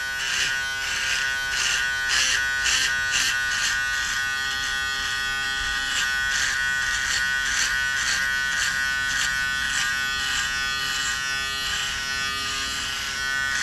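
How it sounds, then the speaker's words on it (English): An electric razor buzzes steadily and close up, its pitched whine pulsing rhythmically as it passes over facial hair, continuous throughout with no talk. "This is such a masculine thing to do, shave."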